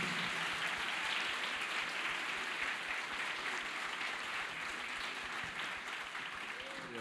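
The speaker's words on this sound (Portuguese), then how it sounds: "Aplaudir mais." A church congregation applauds during a sermon, a dense, sustained wash of clapping heard from within the crowd that holds steady and tapers slightly near the end, with faint voices mixed underneath.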